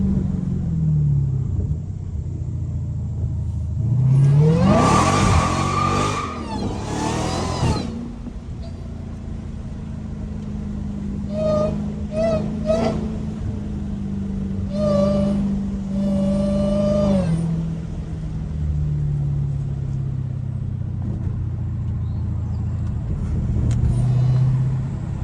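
Supercharged Dodge Hellcat engine revving hard while drifting, with bursts of rising revs and tire squeal over a steady low rumble, close and loud throughout.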